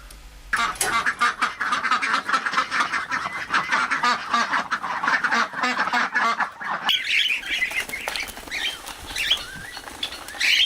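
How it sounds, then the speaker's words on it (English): A flock of ducks and ducklings quack and peep busily nearby, with pattering and fluttering, the chatter growing higher and more excited partway through. "I was up at the crack of dawn to feed the ducks and the ducklings."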